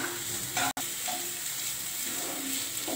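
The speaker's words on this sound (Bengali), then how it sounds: "ভালো করে মশলাটি কষানো হয়ে গেছে" Ground spices with salt and coriander powder are stirred and fried in a pan for chicken malai, giving a soft continuous sizzle with scraping stirs and one sharp click near the start.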